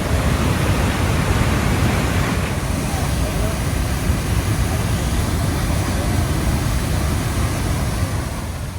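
Niagara Falls roars up close, a dense, unbroken wash of rushing water that stays loud and steady from start to finish.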